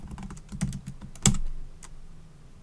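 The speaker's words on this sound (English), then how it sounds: "I'll just type it again." Keys clack on a computer keyboard during coding, with a few scattered close taps and one sharper, louder keystroke partway through. No one speaks.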